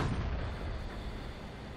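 A heavy tank cannon in World of Tanks, with an IS-2 or Tiger P in a heavy-tank battle, lets out a loud, close blast whose dense, rumbling roar fills the whole short moment and stays heavy as it fades.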